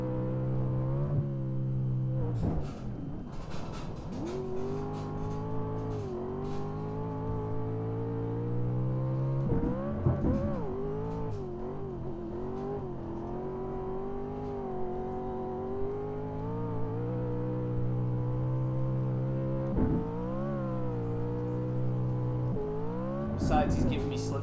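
Race car engines whine and rev continuously in a sim racing video game, pitch climbing and dropping with shifts and corners. The sound stays loud and close throughout, with voices talking over it.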